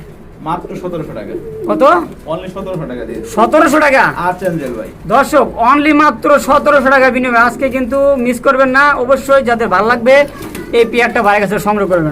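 Pigeons coo at a pigeon farm that breeds and sells high-quality birds, a soft murmuring chorus running throughout beneath near continuous talking.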